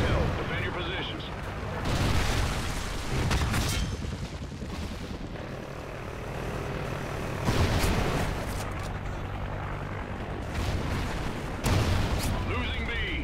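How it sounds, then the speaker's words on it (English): Trinity rocket strike explosions rumble through a Call of Duty: Ghosts Domination match on the Departed map, several heavy booming blasts swelling and fading over a continuous roar of battle noise. "Friendly Trinity rocket inbound"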